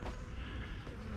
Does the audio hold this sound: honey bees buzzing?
yes